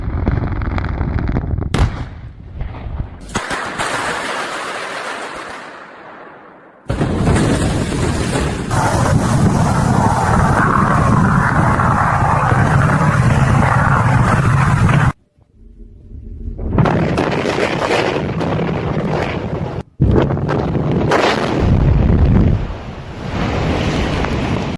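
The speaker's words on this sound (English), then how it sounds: "Thunderous blasts echo as debris flies through the air" Large explosive blasts with debris flying, heard as several loud, broad roaring bursts separated by abrupt cuts and brief silences, each rumbling on for seconds.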